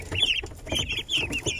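Silkie hens and roosters clucking in a backyard flock, a run of short close calls repeating in quick bursts with a chick-rearing hen among them.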